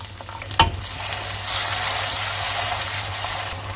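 About a third of a cup of water poured into hot masala with kasuri methi and garam masala in a pan, a brief splash followed by a loud, steady close sizzle and bubbling.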